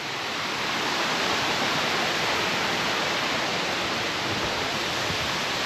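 Small woodland waterfall at Lumsdale, Derbyshire, a steady, loud, dense rush of falling water that stays constant throughout, close by, with no voices.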